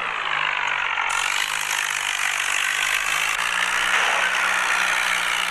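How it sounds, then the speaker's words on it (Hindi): A tractor engine in a video game runs loud and continuous, a steady mechanical drone with a faint rattling texture and a slight shift in pitch partway through, and no voices. "ट्रैक्टर को चलाते हैं"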